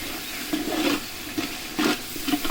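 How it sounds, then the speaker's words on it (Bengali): Spices frying in a pot for chicken biryani being stirred, with a steady soft sizzle and a few scraping stir strokes at irregular intervals, close and moderately loud, no voices. "ঢাকনা উঠিয়ে এগুলোকে আবারও ভালোভাবে নেড়ে দিচ্ছি।"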